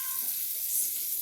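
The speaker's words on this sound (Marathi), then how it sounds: "ही फोडणी मी ओतली." Hot tempering oil hits a curd-and-cucumber salad with a short, bright sizzle that hisses evenly for about a second, close and moderately loud.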